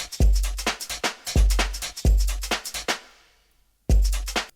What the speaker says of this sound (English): So let's play the drums alone.